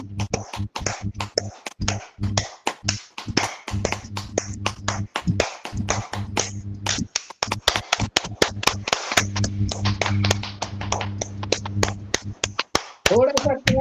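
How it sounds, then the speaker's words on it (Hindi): A yoga group claps hands in rapid, continuous rounds, with sharp, close claps repeating over a low sustained drone for the whole stretch. "बहुत बढ़िया, बढ़िया, तालियां बजा लें।"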